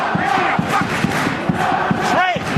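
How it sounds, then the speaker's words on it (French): A stadium crowd at a rugby league match between Catalans and Bradford chants and cheers loudly in rhythmic waves, with a sharp whistle near the end. "Écoutez les publics."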